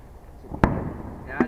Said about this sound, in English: Well, you're the one who pops the fireworks.